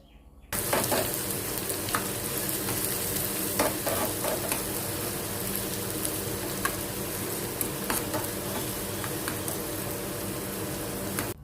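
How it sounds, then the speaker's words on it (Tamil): Fennel seeds and garlic frying in sesame oil as a tempering for a drumstick leaf dish, with a steady close sizzle and crackle plus occasional stirring clinks, continuous after a quiet start. "பெருஞ்சீரகம் பூண்டு ஸோ நல்லெண்ணெயில் நான் இதை நல்லா வறுத்து எடுத்து"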